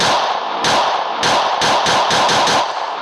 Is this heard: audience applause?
no